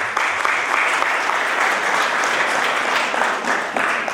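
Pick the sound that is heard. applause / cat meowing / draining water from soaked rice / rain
applause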